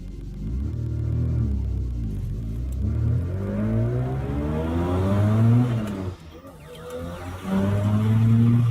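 A Turbo 2 car with a crate engine accelerates hard through several gears, its engine note climbing and dropping in repeated rising sweeps, loud and close, with a brief dip near the end before pulling again.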